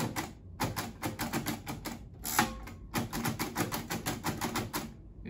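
Computer keyboard keys clicked rapidly in a school classroom where braille is taught, a close, steady clatter of many keystrokes with a short pause partway through and no voices.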